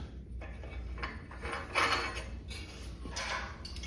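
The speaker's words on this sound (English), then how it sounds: "I'm just going to spin the flange onto the pipe threads" Steel flange spun by hand onto threaded pipe for a weld table clamp, close metallic grinding and scraping of threads in uneven bursts, with a couple of louder ratcheting surges, no speech.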